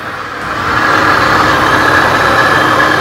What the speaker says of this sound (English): down there, hard at work, is your air conditioning compressor